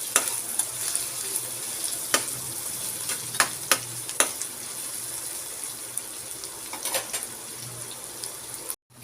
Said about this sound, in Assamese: অকণমান পিঁয়াজখিনি ৰঙচুৱা হোৱাকৈ প্ৰথমতে মই ভাজি ল'ম।